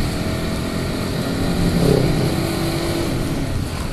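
A motorcycle's exhaust drones steadily while being ridden in traffic, loud and close, with a brief rise in revs midway before settling back to an even engine note; no talking.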